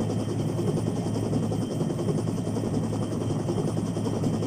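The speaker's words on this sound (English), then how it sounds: "I'm sitting at the chopper waiting." A helicopter in a video game rotates in a steady, loud droning whir that stays even and continuous throughout, and no one talks over it.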